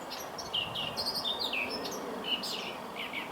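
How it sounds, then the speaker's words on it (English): Several birds chirp and tweet in quick, scattered high calls during an April afternoon walk outdoors, steady background hiss beneath, moderately distant and fairly faint, with no voices. "Some interesting birds, but I can't see them."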